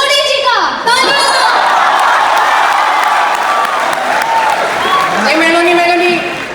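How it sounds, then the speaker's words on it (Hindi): A student audience at a college skit show claps loudly, mixed with shouts, whoops and excited voices rising and falling, a dense crowd roar that carries on for several seconds. "तालियां।"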